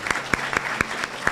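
A small audience at a school board meeting claps for students, giving a few distinct, spaced-out hand claps at moderate distance.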